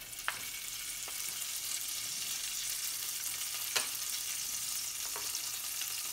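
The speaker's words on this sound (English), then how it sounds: "to this, I'm going to add butter and wait for it to melt" Butter melts in a non-stick pan on the stove for a sabudana khichdi, giving off a continuous, even sizzle and hiss with a few faint utensil ticks, close and steady, with no talking.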